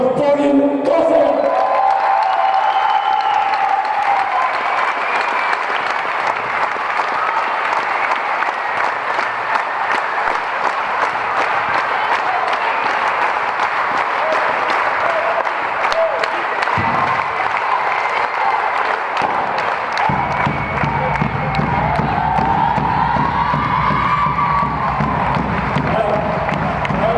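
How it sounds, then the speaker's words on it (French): A crowd at a basketball club celebration applauds steadily for a player, a dense sustained clapping with some cheering, loud and continuous, and voices mixed in near the end. "Je vous demande d'applaudir Pauline Kozer"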